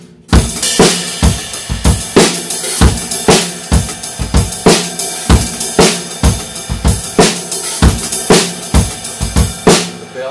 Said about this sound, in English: So with the five stroke would sound like this.